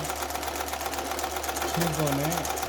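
A household sewing machine runs steadily through a quilting stitch, a continuous close mechanical whirr with a fast rhythmic chatter and a tonal hum rising near the end, and a voice talks over it.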